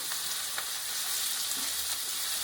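Chopped onion frying in hot oil, giving a continuous bright hiss with faint crackles and soft stirring taps. The sound is fairly quiet and steady, and no voice is heard.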